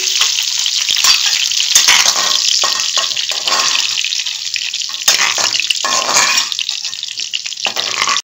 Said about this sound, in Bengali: আমি এই কিশমিশ আর কাজু বাদামটা এই তেলের মধ্যে একটুখানি ভেজে নিচ্ছি গার্নিশের জন্য